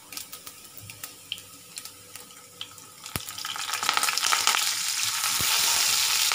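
Curry leaves dropped into hot oil in a pan start with sparse crackles and pops, then build into a denser, louder sizzle of frying.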